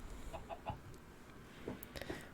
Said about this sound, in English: with our friendly chickens just outside of the door